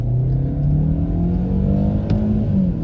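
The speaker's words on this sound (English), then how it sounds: "let's just floor it now that we have opportunity" A Euro-spec Audi A4 S-Line B5 pulls hard at full throttle, its engine note climbing steadily in pitch as the revs rise, loud and continuous from inside the car.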